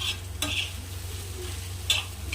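Thecha frying on an iron griddle, a quiet sizzle under a low hum, with two sharp spatula scrapes of stirring a second and a half apart.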